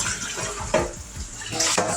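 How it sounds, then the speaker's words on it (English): A cooking skillet is rinsed under hot running tap water: a steady splashing stream with a few sharp clanks of the pan against the sink, close by. "If this is hot water, I'm rinsing the skillet in."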